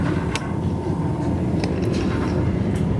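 Passenger train travelling from Berlin to Hamburg: a continuous deep rolling rumble with scattered faint clicks and rattles from the carriage, steady throughout with no voices.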